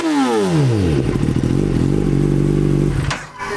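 Kawasaki ZX-10R sportbike fitted with an aftermarket exhaust revs hard and loud up close, its note climbing quickly and then holding a steady rasping roar for about two seconds before cutting off sharply, with a brief blip at the end.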